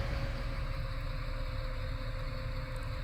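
A tractor engine in a farming video game labors uphill, giving off a steady, loud low drone that holds unbroken throughout, with no voices.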